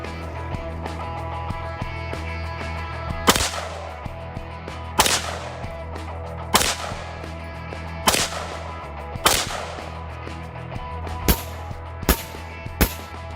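An AR-15 rifle fires high-velocity varmint hollow-point rounds at Level III body armor, giving about nine sharp, loud reports spaced a second or two apart, the final few coming quicker.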